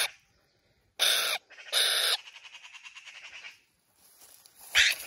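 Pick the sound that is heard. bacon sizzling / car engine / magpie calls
magpie calls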